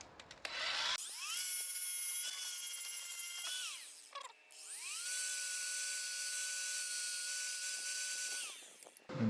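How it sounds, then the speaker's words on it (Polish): High-pitched whine of an angle grinder taking the zinc coating off galvanized steel before welding, two sustained passes of grinding with a short pause between, loud and close, with no talk. "odszlifuję trochę ocynk do tego i przyspawam tu na środeczku nakręteczkę"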